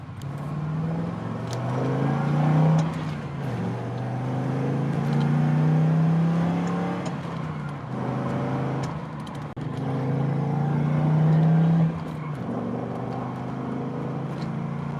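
A modified LS1-powered Pontiac GTO idles and revs with a deep, throaty engine drone, rising and falling in several swells throughout, close and loud with no talking.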